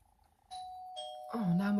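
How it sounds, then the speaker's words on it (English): A doorbell chimes in a home, clear ding-dong tones stepping through a short melody, fairly close, with a voice starting to speak over the final note. "Oh, now my doorbell's going."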